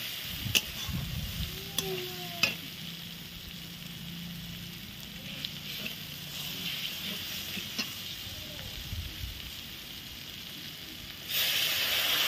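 Tomato paste and Kashmiri chili powder fry in a spice paste for chicken, giving a low, continuous sizzle with a few sharp clicks of stirring early on and a brighter hiss rising near the end.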